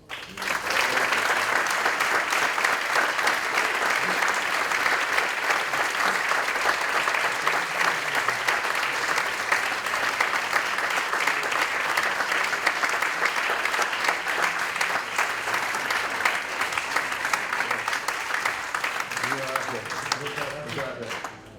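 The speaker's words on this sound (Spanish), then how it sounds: "os voy a pedir un fuerte aplauso" Strong, sustained applause from the audience at an education forum on humanities in schools, a dense even roar of many hands lasting over twenty seconds before tapering off at the end.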